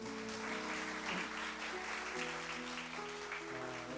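A church congregation claps in a steady, dense wash of applause, mixed with sustained keyboard or organ music.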